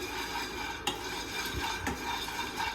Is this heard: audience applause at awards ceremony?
no